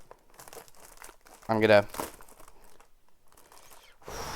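Shrink wrap crinkles and tears open on a Superman I-IV 4K film collection box, a short loud burst of crackling between stretches of someone talking.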